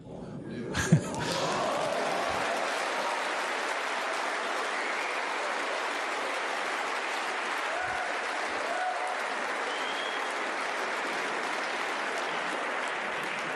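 Snooker crowd applauding at the European Masters final between Barry Hawkins and Judd Trump, a steady sustained round of clapping from a large audience after a brief sharp knock near the start, filling the whole stretch without voices.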